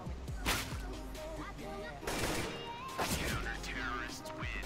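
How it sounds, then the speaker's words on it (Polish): Several sharp gunshot bursts crack out in quick succession amid clanking game sound effects during an Unreal Challenge finals match, including an enemy headshot, with a commentator's voice talking underneath. "Poprzez strzał w głowę wroga."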